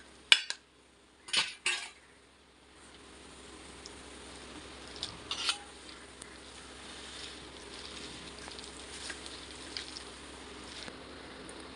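Half a kilo of boneless chicken being mixed into marinade in a bowl, with a few sharp clinks of a utensil early on, then quiet squelching and soft knocks.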